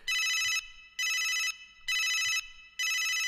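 An electronic telephone ring repeats four times in even bursts with short gaps, bright and steady, with nothing else audible.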